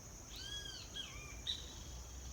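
Faint great kiskadee calls sound through a quiet background hiss: a few clear, sliding whistled notes, then a short sharp chirp.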